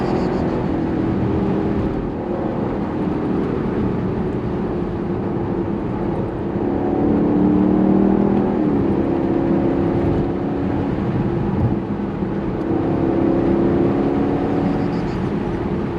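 A Lexus LC Cabriolet V8 drones steadily under acceleration with a continuous low engine note and no clear rev peaks, and speech runs over much of it.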